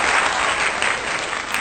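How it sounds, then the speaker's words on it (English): Dense, steady applause from a studio audience welcoming a guest onto a talk show, loud and continuous throughout with no pauses. "please give a big round of applause for Haley Ann Green"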